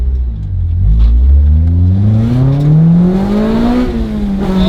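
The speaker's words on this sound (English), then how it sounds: "VTEC just kicked in, bro!" Acura Integra engine in a hard first gear pull, revs climbing steadily to a higher-pitched VTEC howl before easing off, loud and close from inside the car.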